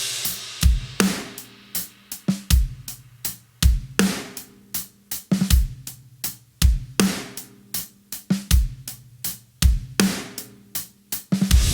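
Drum groove with a steady backbeat on kick and snare, adding one or two soft ghost notes on the snare at the end of each phrase, with hi-hat in between; close, clear and rhythmic, with no talking.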